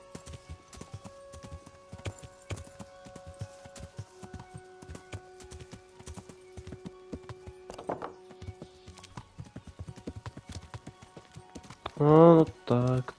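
Horse hooves clip-clopping in the video game Kingdom Come: Deliverance, a steady rhythmic trot throughout, followed by a short neigh near the end.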